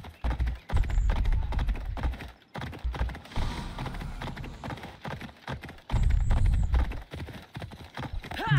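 Rhythmic clip-clop of horse hooves in bursts in Assassin's Creed Odyssey, with short pauses between runs and a brief electronic whoosh, game-like and steady.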